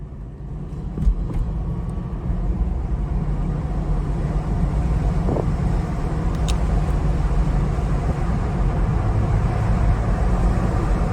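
Steady low road and engine rumble from a 2007 Cadillac SRX with 12,000 miles being driven, a continuous moderate drone with no talking.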